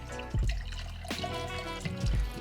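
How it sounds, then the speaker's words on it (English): Drilling fluid mixed with polymer is poured through a screen during a Mudex dispersion test, giving a close, continuous splashing trickle with a few heavier gushes. "We pour this through our screen."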